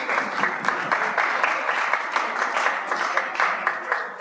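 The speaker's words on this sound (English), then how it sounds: "Round of applause for Rodale." Applause from an audience at an organic grain markets panel discussion, a steady wash of clapping from a room full of people lasting several seconds with no talk over it.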